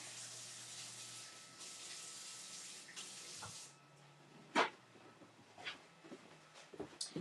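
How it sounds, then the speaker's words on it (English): Hands are washed under a running tap in a craft workspace, water pouring steadily for a few seconds before shutting off, followed by scattered splashes and small clatters nearby. "Let me wash my hands."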